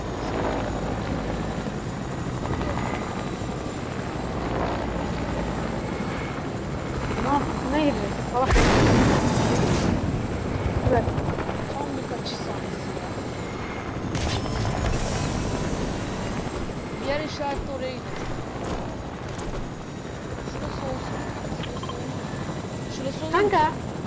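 A helicopter in the video game Fortnite drones steadily throughout, with bursts of louder rushing noise and booms, while players talk over it.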